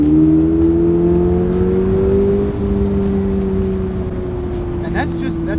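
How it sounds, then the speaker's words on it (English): The boxer engine of a 2022 Toyota GR86 revs loudly from inside the car during a test drive, its tone climbing then settling into a steady drone, with people talking alongside. "that's all engine. Yeah. That's the good old Boxer"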